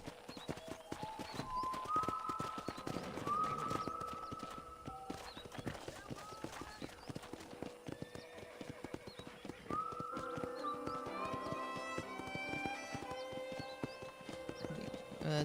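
Horse hooves clip-clop steadily in Red Dead Redemption, a continuous close rhythmic trot lasting throughout, with background music and a voice speaking over it.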